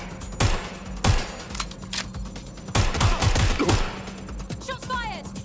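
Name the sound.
gunfire in the video game Watch Dogs Legion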